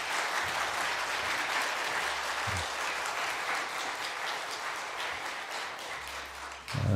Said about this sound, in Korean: 뜨거운 박수로 맞이하시겠습니다.